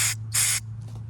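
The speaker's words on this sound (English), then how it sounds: "you take your carb cleaner and you want to spray it in all these little holes" Two short, bright hissing bursts of aerosol carburetor cleaner sprayed close up into a lawn mower carburetor, followed by a fainter third puff, over a low steady hum.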